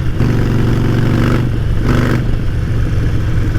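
A Harley-Davidson Nightster 1200 motorcycle engine revs loudly and up close, with two throttle blips swelling over a steady, rumbling, low-pitched idle.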